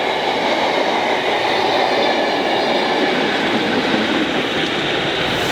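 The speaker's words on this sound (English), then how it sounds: "It's an Everrail test train." An Everrail test train runs along a railway line, a loud, steady rumble of wheels and carriages passing close by without a break.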